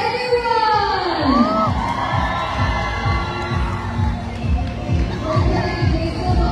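Crowd at a celebration stage event for an Olympic gymnast cheering, whooping and shouting loudly, with children's shrieks and hand claps forming a dense, continuous roar close by.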